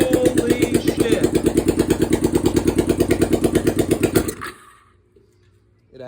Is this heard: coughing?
no